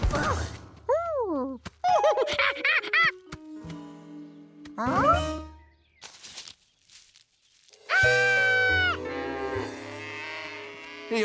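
Cartoon monkey imitating a cow, a voice giving drawn-out mooing calls in several bursts with gaps and a thump, then a longer moo-like call toward the end.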